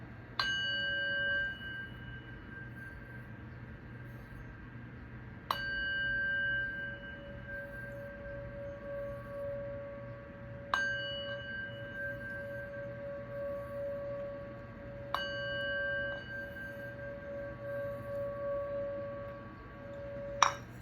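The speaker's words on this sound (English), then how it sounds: "This is the sound bowl. We're gonna gong it 4 times." A sound bowl is struck four times at even intervals of about five seconds. Each strike rings with a clear, sustained metallic tone that slowly fades over a low steady hum, with no talking.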